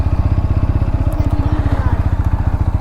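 A motorcycle engine thuds in a steady, rapid, loud rhythm close by while being parked in a parking area, with a faint clink partway through.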